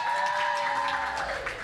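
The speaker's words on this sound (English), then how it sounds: "Big round of applause for the Flying Sparks" Applause from an audience for a school team called the Flying Sparks at a national school finals event, a steady wash of clapping with no speech, held for the whole moment.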